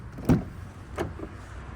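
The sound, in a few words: car door opening on a Volkswagen Golf 8 GTI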